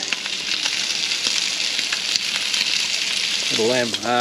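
Seasoned lamb rib cutlets frying at a campsite, a dense steady sizzle close by with faint crackles, and a voice briefly starting to talk near the end.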